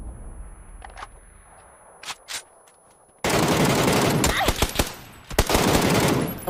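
MK rifle gunfire in the PUBG shooter game, a few scattered shots at first, then a sudden loud sustained burst of rapid automatic fire that continues to the end.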